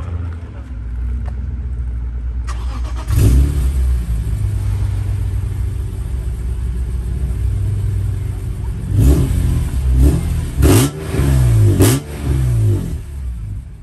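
An Audi RS3 sitting stationary fires up with a loud burst, then settles into a deep rumbling idle broken by several sharp throttle blips and revs, very close and loud.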